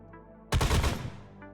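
Loud burst of gunfire in a dubbed story scene from the game PGR (Cinder Burns story): a rapid, dense volley hits suddenly after a quiet tonal backdrop, then fades away over about half a second.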